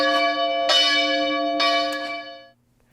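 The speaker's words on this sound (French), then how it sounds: "La cloche est d'ailleurs encore fidèle au poste et nous réjouit toujours de son délicieux do aigu." An old parish church bell, still in service, rings a high C: a few bright struck tolls with long sustained ringing tones that fade into quiet at the end, close and clear without talk.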